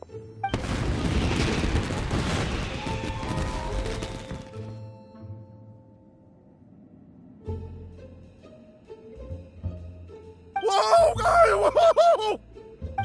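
Fireworks in Genshin Impact burst as a dense, booming crackle at first, then fall away to quiet hum before a sharp final burst with bright ringing tones.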